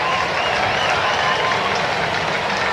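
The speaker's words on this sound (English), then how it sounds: "You can start to hear this Twins crowd that is now filed in starting to make a little noise" A Minnesota Twins baseball crowd at a game against the Detroit Tigers makes a steady, broad roar of cheering and clapping, a dense wash of noise sustained evenly at moderate loudness without clear breaks.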